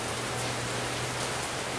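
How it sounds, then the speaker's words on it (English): Steady, even hiss of rain drumming on aluminum, a dense broadband patter with no distinct drops standing out, continuous and fairly loud throughout with a low hum underneath. "the rain's making a lot of noise"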